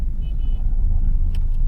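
Steady low rumble of road traffic with engines idling nearby, a faint tone and a couple of short clicks toward the end.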